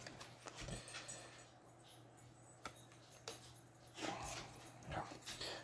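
Puppies whimper and yip softly, faint and intermittent, against a low steady background hum.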